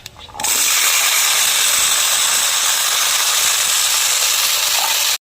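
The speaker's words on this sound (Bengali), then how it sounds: "দেখুন আলুটা দিয়ে দিচ্ছে।" Diced potatoes drop into hot oil already holding dried red chillies, bay leaves and nigella seeds, bursting into a loud, sustained hissing sizzle that starts abruptly and holds steady for several seconds before cutting off.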